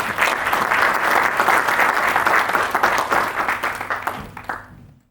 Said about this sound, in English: We'll have a round of applause for the volunteers,